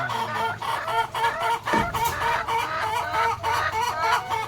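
Rhode Island Red and Dekalb Brown hens cackling in a flock, a dense, continuous chorus of rhythmic clucks and squawks nearby, with no talking over it.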